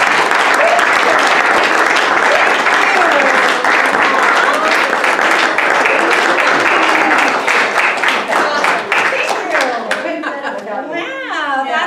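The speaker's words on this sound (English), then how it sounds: "So round of applause." Audience applause at a historical society talk fills the room, with dense, sustained clapping from a crowd that gradually thins toward the end as a speaker's voice starts.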